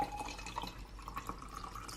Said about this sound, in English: So what I'm gonna do now is I'm just gonna add some more water.